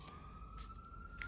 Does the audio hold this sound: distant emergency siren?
yes